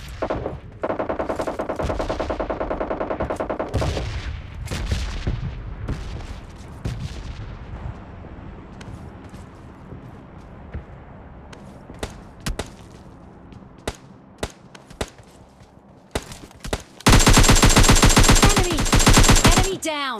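Thompson submachine gun firing in PUBG Mobile Lite gameplay, with rapid loud bursts of automatic fire, scattered single shots and impacts, ending in a long sustained burst near the end.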